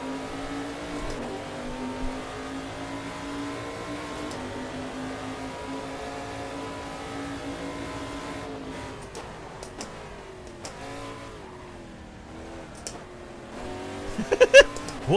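LMP3 prototype race car engine in a racing video game, a steady sustained drone with strong harmonics that shifts pitch through upshifts and throttle changes, ending in a few louder sharp bursts.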